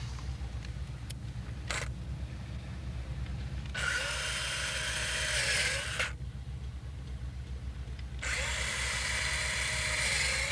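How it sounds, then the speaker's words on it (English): A power drill whines drilling holes in a fiberglass boat transom, two sustained bursts of a few seconds each separated by a pause, over a low steady hum, with a couple of brief clicks beforehand. "Go ahead and drill up our holes now."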